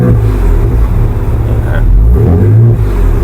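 A Ford Raptor V6 exhaust in quiet mode revs to about 2,000 rpm, a steady, loud low rumble held throughout with slight swells, with faint voices underneath.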